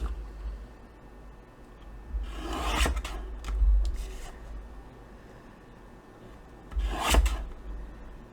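Scissors or a trimmer working through a paper photograph for a papercraft envelope project, heard as a few close, dry rasping cuts in short bursts with quiet pauses between them.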